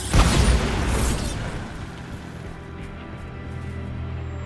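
A Bombarda spell detonates in Hogwarts Legacy with one loud, close boom in the first second, then a long rumbling tail that slowly settles into a low, steady hum.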